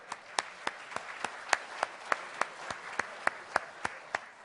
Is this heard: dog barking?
no